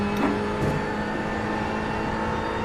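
In a video game, a Ferrari 488 race car engine drones steadily at high speed on the Le Mans circuit, with a continuous onboard tone that stays loud and even throughout.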